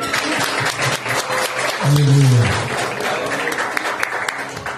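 Church congregation applauding during a service, dense continuous clapping with a voice rising briefly above it in the middle.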